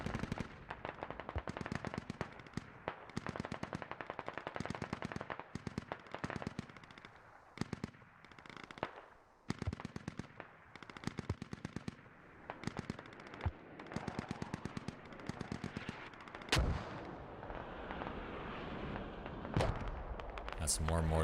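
Dense gunfire from the Squad Ops video game rattles in rapid automatic bursts and sharp single shots, with heavier mortar blasts, loud and nearly continuous, while voices talk over the battle.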